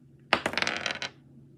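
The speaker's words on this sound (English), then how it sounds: "I'm rolling with different dice." Dice clatter across a table during a tabletop role-playing game, a sharp initial hit followed by a quick run of rattling bounces that settle after about a second, close and fairly loud.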